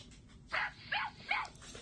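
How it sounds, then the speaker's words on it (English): An assistive communication device plays a recorded dog barking, three or four short barks in quick succession at moderate volume, with no talking over them. "What's a dog say?"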